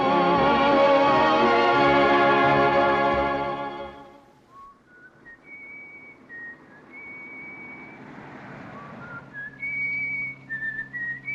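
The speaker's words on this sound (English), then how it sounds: "whistle something else" A loud sustained musical chord fades out, then a man whistles a slow, wavering tune alone in a 1944 film, fairly close, with short pauses between phrases.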